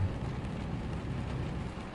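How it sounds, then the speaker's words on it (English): Heavy rain from the Brutal Weather mod in Euro Truck Simulator 2, a dense, even downpour hiss drumming on the truck cab, steady and unbroken, with a low engine rumble underneath. "That rain's coming down a bit heavy again."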